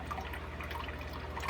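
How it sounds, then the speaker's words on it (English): Water trickles and drips steadily into a home aquarium filtration system on an auto water change setup, a soft continuous running-water sound with faint drip detail over a low mechanical hum. "40 gallons of water dripping into the system every day"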